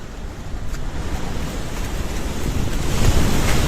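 A flooded river in Nawakot, Nepal, rushes past in a loud, steady roar of turbulent water, mixed with wind buffeting the microphone and no voices.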